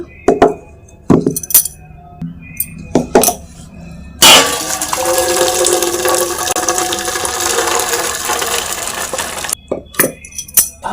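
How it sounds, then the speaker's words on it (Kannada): Water poured off boiled sprouted horse gram to separate the dry curry from the broth, a steady splashing pour lasting several seconds, framed by clinks and knocks of steel pots and utensils close by. "ನೀರು ಬಗ್ಗಿಸಿ ಪಲ್ಯ ಬೇರೆ ಸಾರು ಬೇರೆ ಮಾಡ್ಕೊಳ್ಳೋಣ."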